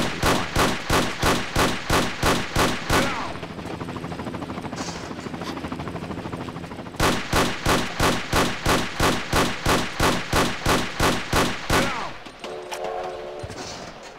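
Rapid automatic gunfire from shooting enemies in a custom Tomb Raider level editor game, in two long even bursts of evenly spaced shots separated by a few seconds of quieter background noise.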